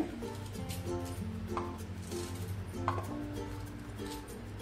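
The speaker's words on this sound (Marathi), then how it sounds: "आता आपण आल्याचे असे छोटे छोटे तुकडे करून घेऊया." A knife slices fresh ginger into small round pieces on a cutting board, soft irregular chopping taps close by under a steady background hum, with no speech.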